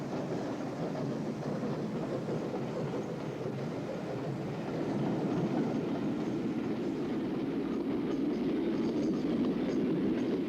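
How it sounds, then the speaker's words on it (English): A mixed train of cattle wagons, a van and four coaches rolls past in a continuous, steady rumble of wheels and wagons, moderately loud and unbroken throughout, with no voices. "The stock of this mixed train consisted of a number of cattle wagons in front of a van and 4 coaches."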